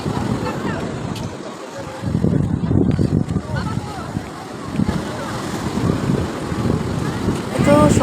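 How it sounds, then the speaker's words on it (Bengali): Strong wind at the Digha seaside buffets the microphone in loud, gusting rumbles, with surf rolling beneath and voices faintly mixed in. "প্রচণ্ড হাওয়া এখন, প্রচণ্ড।"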